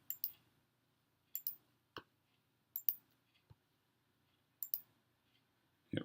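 Sharp computer mouse clicks sound in small pairs and singles spaced across a quiet room, crisp and close, with no talking.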